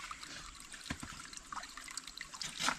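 Water trickles and splashes close by at a spring in Lucban, Quezon, a faint steady flow broken by a few sharper drips and splats, with no voices over it.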